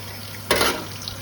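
Rice rinsed in a pot with tap water, heard as a sudden close gush and swish of water that tails off into soft sloshing, with a low background hum.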